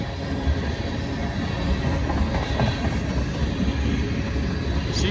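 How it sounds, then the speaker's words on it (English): Heavy, steady rumble of a long Kansas City Southern ethanol freight train rolling past nearby, with faint clatter and squeal from the wheels, loud and continuous. "Got another ethanol train."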